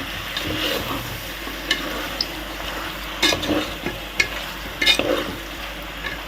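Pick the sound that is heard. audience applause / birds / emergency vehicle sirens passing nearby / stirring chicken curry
stirring chicken curry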